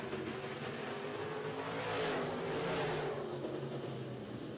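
Midwest Modified race cars accelerate together at the green flag of a dirt-track heat, a dense roar of engines that swells and sweeps past at a distance, with no talk over it.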